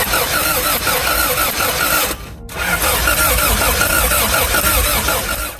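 Toyota MR2 engine running rough with cylinders three and four not firing, a loud, continuous uneven idle with a short break near the middle before it carries on.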